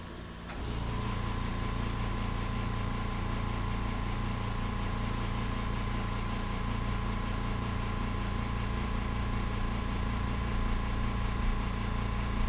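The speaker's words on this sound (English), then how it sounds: "You guys can just see how smooth this airbrush is." An airbrush sprays India ink onto paper with a steady, close hiss of air that holds an even level throughout, backed by a low constant hum.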